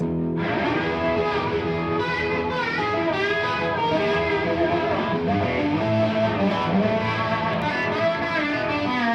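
Slide guitar played without palm muting, a dense wash of gliding notes with unwanted ringing strings and resonance piling up, steady and fairly loud throughout.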